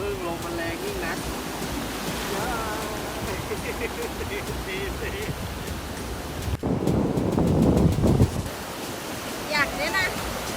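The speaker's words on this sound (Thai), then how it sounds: "พึ่งลมมันแรงยิ่งนัก" Strong wind at a Thai beach roars across the microphone over the wash of surf, loud and constant, with a brief louder gust partway through and people talking over it.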